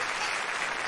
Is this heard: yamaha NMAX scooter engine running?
no